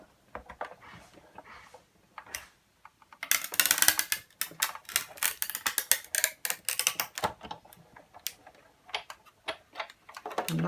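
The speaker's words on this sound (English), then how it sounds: "when you do run it through, it makes a very interesting crackling sound." Dense, irregular crackling and ticking from Yupo paper being fed through a die-cutting machine, loud and close, with quieter clicks before and after.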